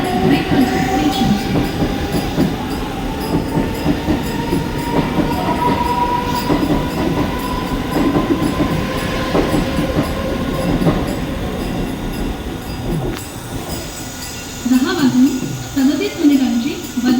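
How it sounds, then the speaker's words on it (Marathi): A Mumbai Central line local train arriving at the Vikhroli station platform, loud rumbling wheels and a long high squeal of brakes, with clattering at the end and people talking on the platform. "बदलापूरला जाणारी जलद लोकल थोड्याच वेळात प्लॅटफॉर्म क्रमांक 3 वर येत आहे"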